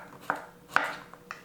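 Zucchini and other vegetables being chopped on a cutting board, with several sharp knife strikes spaced irregularly, fairly close and moderately loud, no voices.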